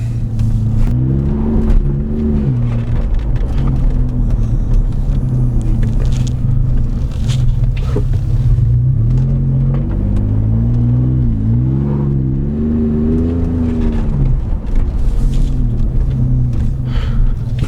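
A 2018 Ford with a 3.5 EcoBoost engine and SCT tuner on a road drive, a loud steady engine drone inside the cabin with the pitch rising and falling through several gentle accelerations, no voices.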